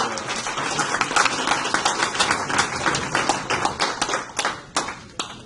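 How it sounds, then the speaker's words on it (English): An audience claps after a talk, the clapping fairly close and busy at first, then thinning into scattered individual claps toward the end. "So let's give a big round of applause for our."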